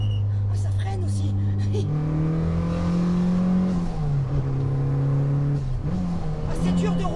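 A Mitsubishi Lancer Evo 8 engine revs hard inside the cabin, then drops as it shifts up a gear and pulls again, loud and steady, with someone talking over the engine noise.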